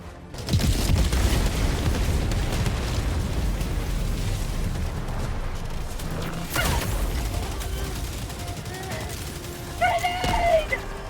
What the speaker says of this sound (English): Dude, you literally lived through an airstrike